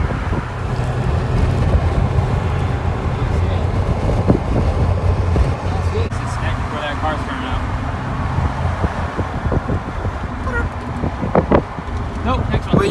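Cold wind buffets the microphone outdoors at a cars-and-coffee gathering on Hilton Head Island, making a steady rumbling roar that swells and eases, with muffled voices and faint car noise underneath.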